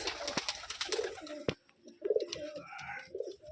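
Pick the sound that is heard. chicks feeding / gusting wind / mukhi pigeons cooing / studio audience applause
mukhi pigeons cooing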